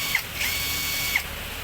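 A Hitachi three-function brushless cordless drill runs freely, giving a steady, high, continuous motor whine with a couple of small clicks, close by and alone.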